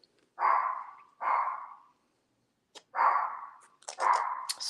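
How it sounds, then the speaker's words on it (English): A dog barks indoors in four short, separate barks, with a gap before the last pair, moderately loud and fairly close in an otherwise quiet room. "Lucy's barking"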